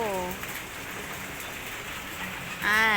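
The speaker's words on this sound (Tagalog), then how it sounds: "Umuulan ng yelo." Hail pelts down in Baguio as a dense, steady patter of icy pellets, heard fairly close. Brief voices speak at the start and again at the end.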